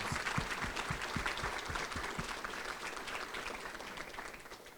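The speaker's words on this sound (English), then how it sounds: "we should do a round of applause" A faint round of applause from an audience at a Rotary student awards and scholarship event, steady clapping heard from a distance with some louder claps up close at the start.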